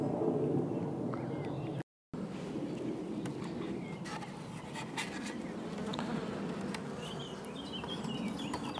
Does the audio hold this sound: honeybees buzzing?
yes